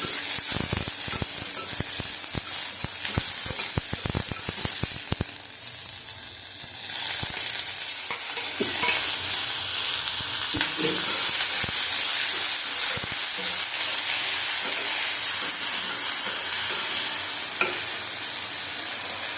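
Prawn heads frying in a pan for a bottle gourd peel dish, a dense continuous sizzle with sharp crackles and scraping stirring clicks early on, close and steady with no voices.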